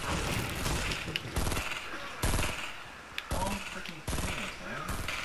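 Fortnite gunfire: rapid automatic bursts crackling in several loud volleys separated by short gaps, close up, with faint voices and game sounds between.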